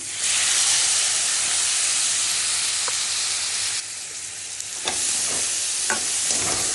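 Lote fish hits hot oil spiced with Kashmiri chili and cumin powder, giving a loud, continuous crackling sizzle with a few knocks of a spatula stirring in the pan.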